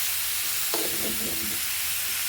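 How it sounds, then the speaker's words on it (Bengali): Water lily stems being sautéed with spices in a pan for a curry with hilsa fish, giving a steady close hiss and sizzle with a brief clatter of stirring partway through, with no talk. "দেখুন শাপলাগুলো দিয়ে আমি একটু শাপলাটা কষায় নিচ্ছি মশলার সাথে"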